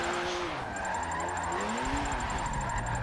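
A GTR drift car in a racing game, its engine droning and shifting pitch continuously as the tires squeal through a slide, loud and steady throughout with no talk.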